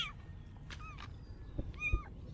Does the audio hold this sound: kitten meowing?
yes